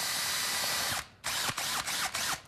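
An electric grinder runs loud and close on a coarse setting, its harsh whirring roar cut by a brief pause and then several short stuttering bursts.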